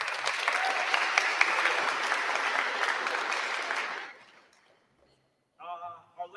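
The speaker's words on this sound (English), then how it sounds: "Give a round of applause for your family." Sustained applause from an audience at a school band concert, honoring the students' families, fills the first four seconds before fading out; a voice begins speaking near the end.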